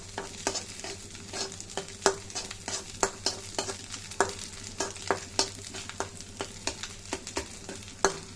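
Spicy egg bhurji with onions frying in a pan over a low gas flame, a soft continuous sizzle broken by regular, rhythmic scrapes of a spatula stirring, close up, with no talking.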